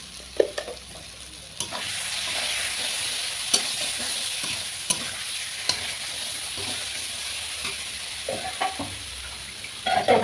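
Spiced rohu fish curry masala is sautéed in a pot, a steady sizzling fry broken by repeated scrapes and knocks of a spoon stirring against the metal, close and moderately loud.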